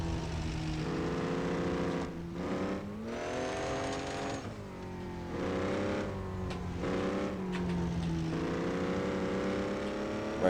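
Lifted first-gen Dodge 12-valve Cummins dually truck in the Offroad Outlaws game, its diesel engine droning loudly and steadily, pitch rising and falling through several revving pulls with no talk over it.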